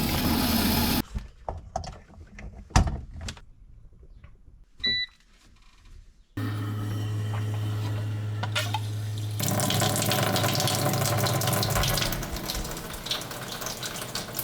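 Water runs steadily and loudly from a Frizzlife water filtration faucet, a strong continuous stream that starts after scattered quieter handling clicks and keeps flowing to the end.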